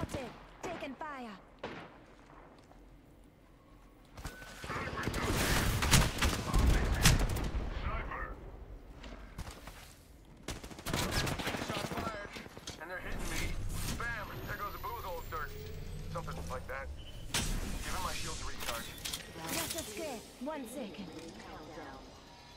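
Repeated bursts of gunfire in an Apex Legends fight, loud volleys with short gaps between them and irregular rhythm, mixed with game effects and a voice talking at times.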